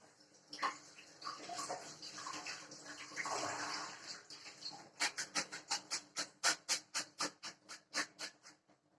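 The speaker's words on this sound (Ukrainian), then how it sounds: "промиваємо під холодною водою, щоб він охолонув" Boiled purslane being rinsed under a cold running tap while preparing a salad: water streams steadily and is joined by rhythmic splashing bursts as the greens are handled, close and fairly loud, with no speech.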